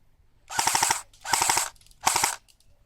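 An E&L AK74 airsoft rifle with a MOSFET fires BBs in three rapid full-auto bursts, each a fast mechanical rattle of shots, close and loud, separated by short pauses.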